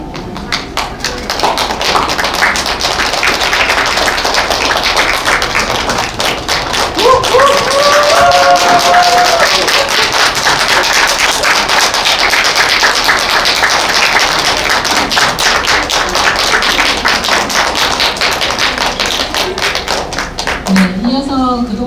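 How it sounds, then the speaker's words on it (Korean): Audience at the 27th degree conferment ceremony of a Korean counseling graduate school claps steadily as graduates enter, a long, even, loud applause with a few voices heard beneath it. "내빈 여러분 힘찬 박수로 맞이해 주시기 바랍니다"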